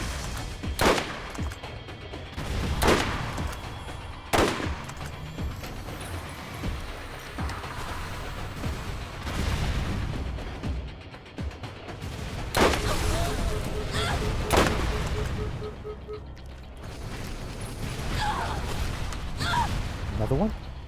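Gunfire in the Borderlands video game at the Eridian Promontory, repeated loud shots and bursts spread irregularly through a busy battle mix, with someone talking at times.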